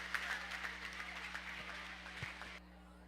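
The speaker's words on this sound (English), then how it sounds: "Let's give all them a round of applause for all the work that they put in for these kids today." Applause from a county fair 4-H and FFA swine show crowd, a steady patter of clapping at moderate distance over a low hum, cutting off abruptly near the end.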